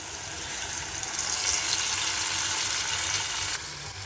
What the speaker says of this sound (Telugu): ఇదిగోండి, అలాగే ఈ వాటర్ కూడా వేసేస్తున్నాను.